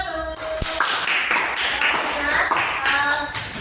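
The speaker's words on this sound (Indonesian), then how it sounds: "Tepuk tangan untuk kelompok 1." A classroom full of people claps together for a few seconds, steady and fairly loud, with voices mixed in.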